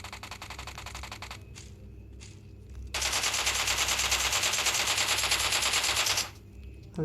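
Rapid automatic gunfire from a video game rattles in a dense, continuous burst, with a quieter stretch of rapid shots before it and a brief pause after; loud and close, with no talking.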